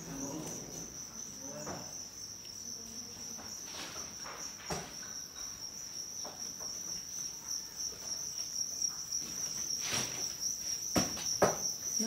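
A constant high-pitched chirping of baby crickets in a wooden-lidded, mesh-vented rearing box rings throughout, with soft scattered rustles and taps underneath.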